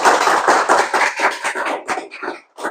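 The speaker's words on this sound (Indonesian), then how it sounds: "tepuk tangan buat kelompok 1." A short burst of clapping from a small group, quick and uneven, thinning out toward the end with a brief pause before a last few claps.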